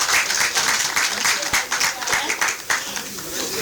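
Clapping from the audience at a government and development bank launch event, uneven bursts of many hands at close range, with voices audible through the applause.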